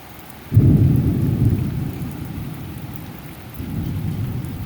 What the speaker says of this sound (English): Got a lightning strike, guys.